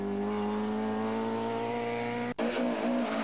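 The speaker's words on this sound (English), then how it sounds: "Brian Carroll doesn't lift for this bend and charges out of trouble to bring his Mark II home in 7th." A Ford Escort Mk II rally car takes a bend flat out, its engine holding a loud, steady high-revving drone before a sudden sharp break and a rougher, rising pull as it charges away.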